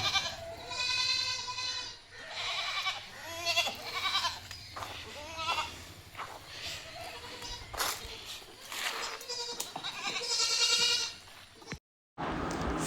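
Pregnant goats at a livestock sale repeatedly bleat up close, with loud, wavering calls overlapping one another in a steady stream, broken by a short silent gap near the end.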